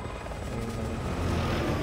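Rotor thump of a helicopter in the video game Resident Evil 6, a steady, fairly loud broadband drone that holds through the whole moment with no talk over it.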